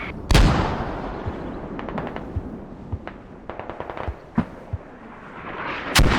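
Mortar shells landing on a hill in a video game match, a big opening blast followed by a run of sharp, rapid impacts and thuds at irregular intervals, ending with another heavy boom.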